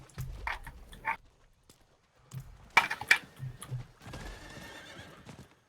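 A horse in Diablo 4 gives a clear whinny amid scattered hoof clip-clops and game noises, fairly close and moderately loud.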